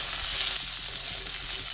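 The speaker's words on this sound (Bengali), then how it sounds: "আর এদিকে তো আলু আর পটলটাকে ভাজা করছি।" Potato and pointed gourd pieces fry in a pan for a vegetarian meal, giving a steady, close, even crackling sizzle with no talking.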